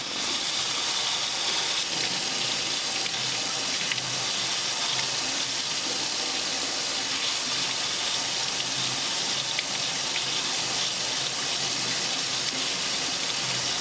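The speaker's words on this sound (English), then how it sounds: "you put the spoon underneath hot water" Hot tap water pours continuously over a spoon in a sink, a steady bright hiss and splash that stays level throughout without any speech.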